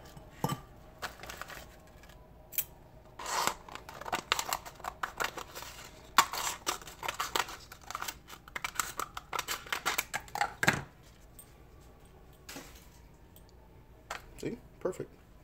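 Scissors snip through a seed box made of paper or cardboard, with repeated crisp clicks in uneven bursts close by, while a person talks intermittently.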